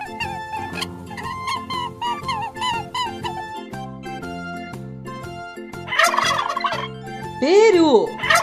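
A turkey gobbles in a children's farm-animal song: a quick rattling gobble and then a louder wavering call near the end, both standing out over the cheerful music.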